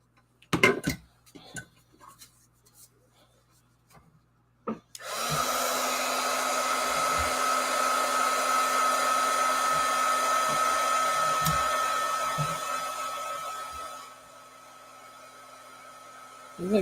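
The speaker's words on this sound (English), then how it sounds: "I'm going to grab my embossing gun." An embossing heat gun switches on after a few light scratches and taps, then blows a steady close whirring rush of hot air with a faint whine, dropping in level near the end as it is moved.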